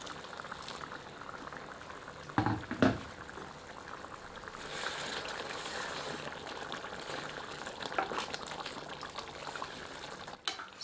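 Hot water is poured into chicken curry that has been browned with spices in a pressure cooker, giving a steady liquid pour and sizzle with a couple of louder splashes early on. No one speaks.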